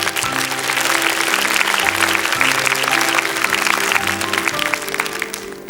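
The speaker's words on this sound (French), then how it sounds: "Qu'on applaudit." Studio audience claps for a little girl candidate on a 1981 French children's TV show, sustained applause with a musical band tone running beneath.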